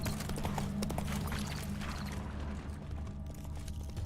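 Horse hooves clip-clop in The Witcher 3: Hearts of Stone, a steady trotting rhythm under dense game music and ambience, fairly loud and continuous throughout.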